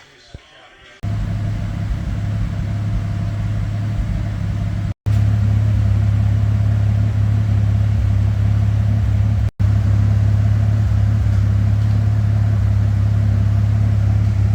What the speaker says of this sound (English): So the Bombardier is running again and sounds really smooth